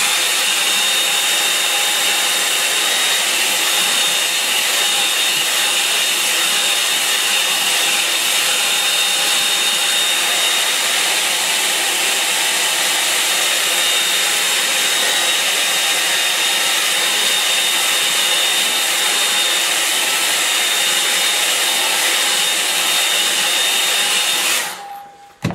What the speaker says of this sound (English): I need to dry that, so I'll just get my hair dryer